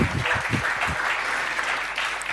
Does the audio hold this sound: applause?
yes